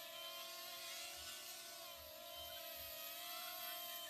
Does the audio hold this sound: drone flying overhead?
yes